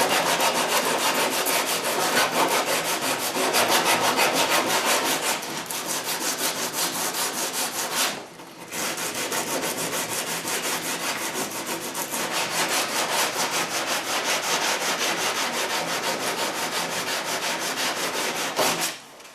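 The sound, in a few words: sanding wood with sandpaper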